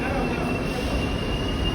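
Loud, continuous rumble and roar of a New York subway B train running close by, with a thin high squeal above.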